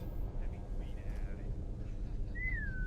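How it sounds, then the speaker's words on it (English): A game character whistles in Assassin's Creed Syndicate, a short rising-then-level whistle near the end, heard over a steady low ambient rumble and background game noise. "So your whistle does attract multiple people, it looks like."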